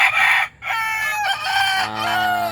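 Backyard chickens and a rooster close by, with loud crowing in two drawn-out calls separated by a short gap and faint clucking underneath.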